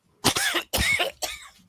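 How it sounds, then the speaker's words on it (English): A man coughs three times in quick succession: two heavy, chesty coughs and a shorter third one, close and fairly loud with no talking. "so I can go cough my head off again"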